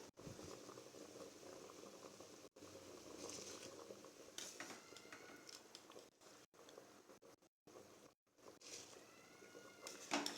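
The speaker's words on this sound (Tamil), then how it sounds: "இப்போ நல்லா தண்ணி கொதிக்குது" Water bubbles at a full rolling boil in a cooking pot, ready for rice, a continuous close churning hiss with occasional popping and a faint clink of cookware.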